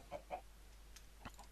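Chickens in the Minecraft video game cluck in a few short, soft calls spread across a quiet moment, with no talk.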